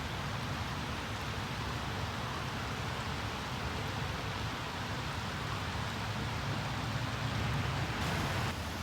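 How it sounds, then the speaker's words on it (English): Steady rain falls in a continuous dense hiss, even and unbroken throughout, at moderate level with no voices. "it's raining."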